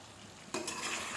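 Chicken gongura curry is stirred in a pan, a quiet sizzle followed by a sudden scraping, sloshing stir up close, with no voices.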